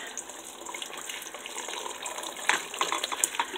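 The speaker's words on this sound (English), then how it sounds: "So I'm just using the strainer here to get my stock out." Homemade soup stock poured through a strainer, a continuous close splash and trickle of liquid running steadily, moderately quiet, without speech.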